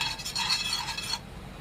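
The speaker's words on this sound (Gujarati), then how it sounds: "બધું આપણે સારી રીતે મિક્સ કરી લેવાનું છે" A spoon stirs cumin seeds and asafoetida in a hot pan, giving a close, steady scraping swish over a faint sizzle for about a second before it eases off.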